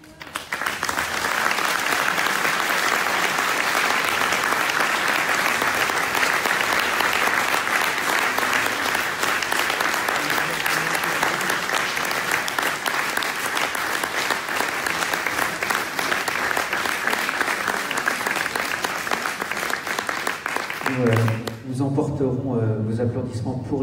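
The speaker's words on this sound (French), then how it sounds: "Vos applaudissements pour les enfants" A foundation event audience applauds the children in a long, loud, sustained round of clapping and crowd noise. The ovation cuts off near the end, where a voice begins speaking.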